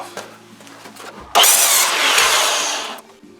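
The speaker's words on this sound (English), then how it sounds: "I'll take the board, put it up against the clamp, and cut it off." A power saw cuts through a shelving board for a grow room, with a sudden loud whine starting and running steadily for under two seconds before winding down, close by.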